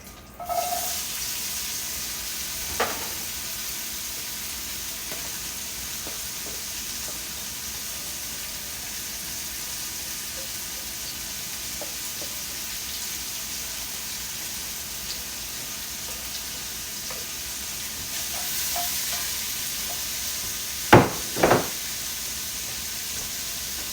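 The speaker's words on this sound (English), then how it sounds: "Now I'm going to add in the onions, peppers, and celery." Chopped onions, peppers and celery fry in a pan for keto jambalaya, a soft and steady sizzling hiss with a few sharp clinks and scrapes near the end.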